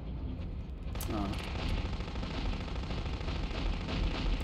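Rapid enemy gunfire in the PlayStation-era game Future Cop L.A.P.D. rattles on in continuous bursts, loud and dense, with a short sharp crack near the start.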